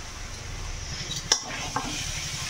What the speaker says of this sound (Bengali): এবারে সব কিছুকে দিয়ে খুব ভালো করে কষিয়ে নিতে হবে